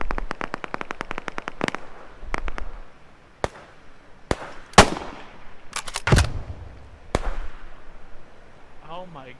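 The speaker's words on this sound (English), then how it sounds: "Oh my god, they're bombing the house." Explosions as a house is bombed in the game Operation Harsh Doorstop: sharp, loud blasts arrive irregularly, opening with a rapid cluster of cracks, then scattered heavier booms with rumbling tails.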